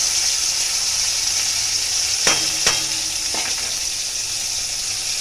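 Chopped tomatoes sizzle and fry steadily in a hot pan, loud and close, with a couple of sharp scrapes from a stirring utensil partway through.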